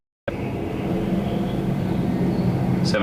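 A Boeing 787-9 Dreamliner passes near Toronto Pearson airport as a steady, loud broadband jet roar that starts abruptly and holds for about three seconds, with a brief higher chirp near the end.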